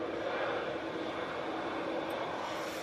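Ryanair Boeing 737-800 airliner departing, a steady broadband jet roar held at an even, fairly distant level throughout with no voices.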